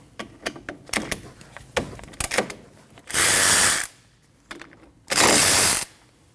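A hand ratchet working loose the two 14mm rear bolts on a front brake caliper of a 2003-2008 Subaru Forester, with a run of quick clicking ratchet strokes followed by two longer loud bursts of ratcheting.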